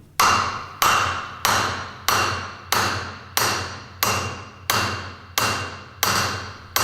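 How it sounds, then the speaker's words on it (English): A drift is tapped with a hammer to seat a bearing by its inner race onto a Flygt submersible sewage pump shaft: about eleven sharp metallic knocks at an even, steady rhythm, each ringing briefly, close and alone. "Use a suitable drift to tap the bearing on the inner race into place"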